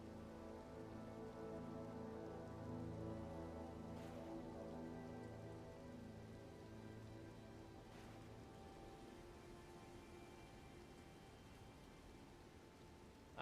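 Steady rain falls outdoors, a dense even wash of drops that holds loud and unbroken for the whole stretch, with a couple of faint distant thumps and no voices.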